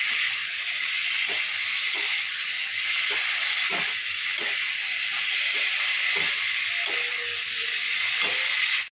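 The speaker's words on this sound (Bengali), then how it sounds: "দেখো এখানে বিট গাজরটা ভাজতে বসিয়ে দিয়েছি।" Beetroot and carrot frying in a pan, a steady broadband sizzle heard up close throughout, with occasional soft clinks and stirring knocks over it.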